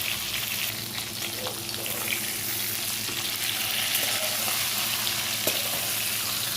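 Gram-flour-stuffed chilies fry in a pan and are turned one by one, under a continuous strong sizzle of hot oil. Occasional soft clicks and scrapes come as each chili is flipped.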